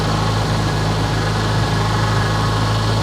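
A Geo Tracker engine idles loudly and close with a steady, even drone and a faint high alternator whine running through it.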